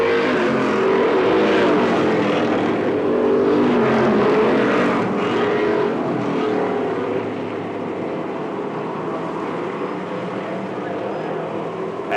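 Race cars roar around an oval track in a close pack, a loud sustained engine drone that swells and fades, with a race announcer talking over it throughout.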